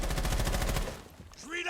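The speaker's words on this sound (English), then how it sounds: "Flashbang out." A flashbang grenade goes off during a video game match, a loud dense burst of rapid cracking blasts lasting most of the moment before cutting off, followed by a brief ringing tone, with no talk over it.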